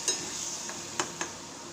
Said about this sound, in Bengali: ডালটা দিয়ে দিচ্ছি ডালটা একবার নাড়াচাড়া করেই নামিয়ে দেব